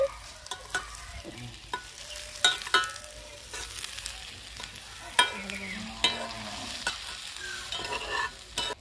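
Flattened rice (chire) fries in a pan while a spatula stirs it, giving a soft sizzle with repeated scraping and clicking strokes in an irregular rhythm, close and fairly clear.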